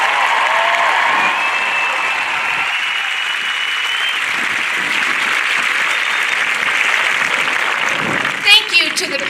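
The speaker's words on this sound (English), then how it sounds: "give a special round of applause" A large stadium crowd gives loud, sustained applause for the Patriot parachute team during a dedication ceremony for Michael A. Monsoor Memorial Stadium, with scattered cheers and whistles rising toward the end.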